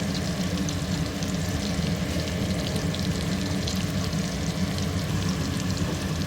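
Prawns fry in a pan for biryani with a loud, steady, close sizzle that holds unbroken throughout, with no voices.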